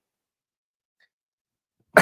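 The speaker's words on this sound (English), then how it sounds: "I'm also battling a little bit of a cough" One sudden cough from a person giving a talk to a room audience, close and fairly loud, after nearly two seconds of silence.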